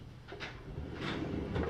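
A deep drawer in a newly built kitchen slides open or shut, soft rolling swishes repeating a few times over a low room hum.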